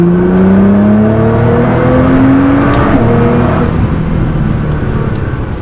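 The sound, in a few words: Nissan GT-R accelerating hard in third gear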